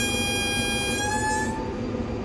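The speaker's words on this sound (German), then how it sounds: "Kleine freundliche Hupe, dass wir hier durchfahren wollen." A sustained, loud multi-tone train horn blares from a 1980s express train in the Zusi 3 train simulator, running on the Altenbeken–Kassel line, holding steady for about two seconds before cutting off under a constant rail rumble.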